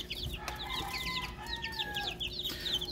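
Shrill, chirping peeps from a group of healthy day-old chicks, repeated rapid calls overlapping at moderate distance with a faint hum and scattered farmyard clucking beneath.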